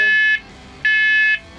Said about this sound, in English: Set the smoke alarms off and everything.